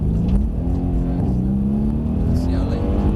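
A Mercedes-AMG C63 S with a manual gearbox, driven on a track: a loud, steady engine drone with rising harmonic tones as it pulls, heard from inside the car while people talk.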